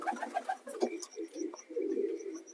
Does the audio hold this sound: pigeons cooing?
yes